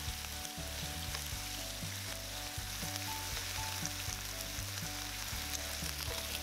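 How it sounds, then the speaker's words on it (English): Beef slices sizzle in vegetable oil in a frying pan over medium-high heat for LA galbi, a dense steady crackle close by, with no talking. "in a frying pan, we're gonna use medium-high heat. Add the vegetable oil, heat it up a little, and then add the beef slices"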